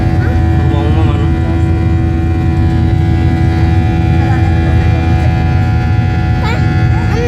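From inside the cabin, an airplane takes off from runway 31 at Sultan Thaha Airport with a loud, unbroken engine drone and low hum throughout, while family members talk over it.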